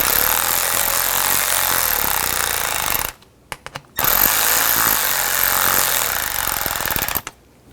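Power tool with a 7mm socket driving bolts on a 2007 Chevy Silverado 1500 Classic seat switch panel, two loud sustained bursts of buzzing hammering separated by a short pause, close up with no talking.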